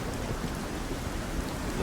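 Steady, dense rainfall from a storm in the video game Velessar Saga, a continuous hiss with a low rumble beneath that could be distant thunder, holding evenly throughout with no voices.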